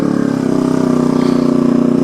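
A motorcycle engine runs steadily at low revs close by, a continuous loud drone as the bike is ridden indoors, with no speech.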